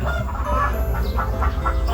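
Native chickens on a farm cluck in short repeated calls, a few birds close by over a low steady background hum, with no talking.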